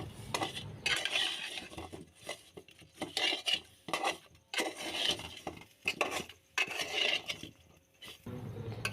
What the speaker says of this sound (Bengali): এবার সবগুলো উপকরণ ভালোভাবে মিক্স করে নিব।